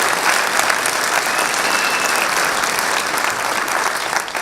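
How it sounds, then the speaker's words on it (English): An audience applauds candidates at a state senator swearing-in ceremony, steady dense clapping from a sizable crowd, loud and continuous throughout. "Kevin Thomas, Monica Martinez. Let's give them a round of applause."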